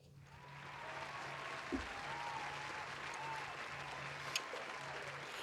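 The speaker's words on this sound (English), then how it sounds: "Round of applause for that." A round of applause from a podcast studio audience, steady, even clapping at moderate level with a faint low hum underneath, holding without pause for the whole stretch.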